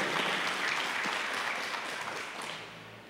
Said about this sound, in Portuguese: Vamos aplaudir da Terezinha aí